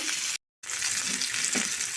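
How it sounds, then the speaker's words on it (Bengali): Pieces of catla and silver carp fry in mustard oil in a pan, a close, steady sizzle and crackle that drops out briefly near the start, then resumes with light stirring. "মাছগুলো ভেজে নেব"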